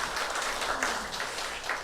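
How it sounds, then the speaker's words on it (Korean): Church congregation clapping in congratulation during a Sunday service, a steady, moderate patter of many hands that carries on evenly, somewhat distant and soft, with no voices over it. "우리가 함께 축하하는 마음으로 박수하겠습니다"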